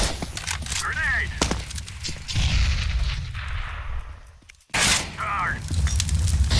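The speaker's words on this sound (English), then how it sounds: "Throwing a flashbang. Incendiary out. Grenade out." Grenade, incendiary and flashbang blasts go off during a professional Counter-Strike: Global Offensive tournament match, booming repeatedly over a dense wash of gunfire while casters talk over the action.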